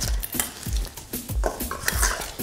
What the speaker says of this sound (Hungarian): Ebbe forgatom bele a sült édesburgonyát.